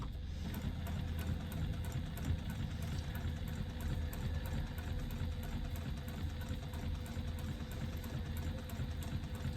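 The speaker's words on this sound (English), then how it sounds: "I'm top stitching this at an 1/8 of an inch" A sewing machine topstitches a fabric wrist strap for a wristlet bag at an eighth-inch seam allowance, giving a steady, continuous low mechanical whir that runs unbroken and fairly quiet with no talk.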